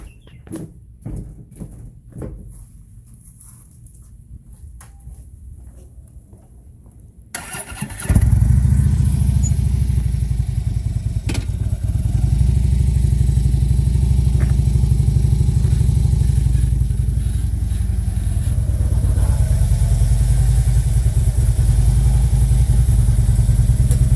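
A Harley-Davidson motorcycle's engine starts with a clatter after a few quiet seconds of faint background noise, then holds a loud, steady, close rumble as the bike rides into a Condor wheel chock.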